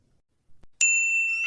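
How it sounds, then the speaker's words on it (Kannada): A doorbell rings once with a sharp ding that rings on as a clear sustained tone, preceded by a few faint soft knocks. "ಬೆಲ್ ಮಾಡಿದ್ದಂತೂ ಆಯಿತು"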